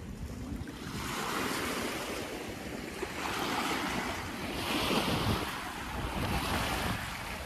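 Sea waves rolling in at Katara Beach in Doha, a steady continuous surf wash with swells of louder surges, mixed with wind buffeting the microphone and no talk.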